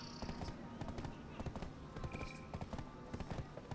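Rhythmic clip-clop of horse hooves trotting in the fantasy game Black Desert, a steady patter of hoofbeats at moderate distance, with a voice talking over them.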